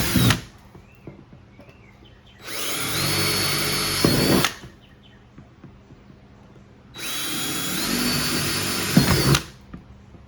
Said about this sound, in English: we just drilled a couple pilot holes